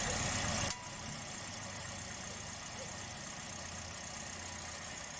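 Car engine idling steadily after repair, a continuous low rumble with a slight knocking pulse, following a brief louder burst at the start.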